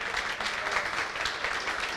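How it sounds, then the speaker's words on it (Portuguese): An audience claps for the mayor-elect of Pirassununga at a gathering, a short, even stretch of moderately loud applause with no voices. "Uma salva de palmas para ele"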